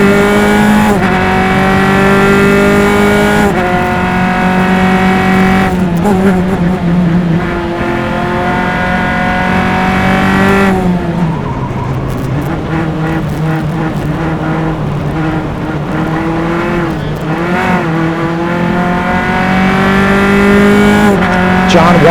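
Single-seater race cars at a Mid Ohio SCCA club race, engines screaming loud and close with repeated rising and falling revs as gears shift and cars pass, a sustained roar with brief tire noise.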